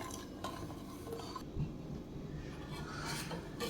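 A spoon stirs tender coconut water, sugar and gelatin in a pot on the stove, giving a steady soft scraping and swishing against the metal, faint and continuous, with no voices.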